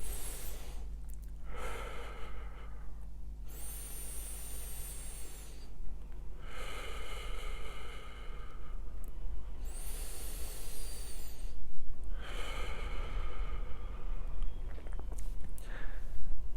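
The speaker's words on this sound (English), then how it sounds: "just slowly and calmly and lightly, so you can feel the air coming out between pursed lips" Slow, light exhales through pursed lips as a breathing technique for chronic breathlessness, several soft airy hisses in a calm rhythm over a steady low hum.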